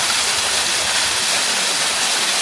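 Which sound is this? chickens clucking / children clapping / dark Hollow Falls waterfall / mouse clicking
dark Hollow Falls waterfall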